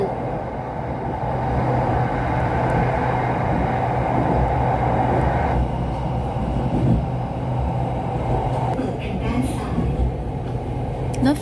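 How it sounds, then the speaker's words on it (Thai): SRT Red Line electric commuter train riding out of Taling Chan station toward Bang Sue, a steady loud interior rumble and hum with a faint voice briefly heard over it. "นั่งรถไฟสายสีแดงครั้งแรกจากสถานีตลิ่งชัน ไปบางซื่อ"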